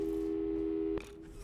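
A steady electronic telephone tone in the video game Portal 2 sounds for about a second after a call, then cuts off abruptly, leaving a fainter lingering hum.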